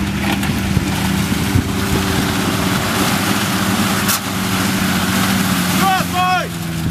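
A Toyota Land Cruiser engine held at full throttle off-road in the Kazakhstan mountains gives a steady, loud droning roar throughout, with wind buffeting and brief voices toward the end.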